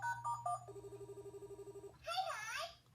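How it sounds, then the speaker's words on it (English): A Sanrio Jewelpet toy phone plays a short electronic ring, a steady run of evenly spaced dial tones, then a warbling ringing burst, close and fairly loud with no talking. "You can hear the phone ring, dial a number and ring, and then Ruby answers the phone"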